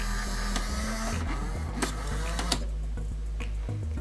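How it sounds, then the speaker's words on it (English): A garden railway locomotive's quiet electric motor runs with a low steady hum and soft mechanical ticking, plus a few faint clicks and knocks close by. "Very quiet motor."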